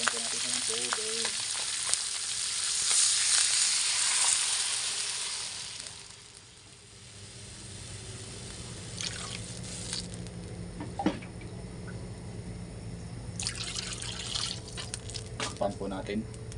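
Water is poured into a pan where milkfish fries with onion, and the loud sizzle softens into a bubbling simmer. A voice speaks over the cooking.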